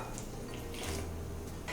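A cup of water is poured into cake batter made with egg whites, giving a soft, brief splashing and trickling sound heard close up and fairly faint.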